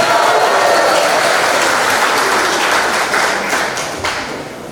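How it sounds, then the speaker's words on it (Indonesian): A crowd at a university faculty graduation ceremony applauds with dense, steady clapping that fills the room, slowly tapering off toward the end. "Tepuk tangan dulu."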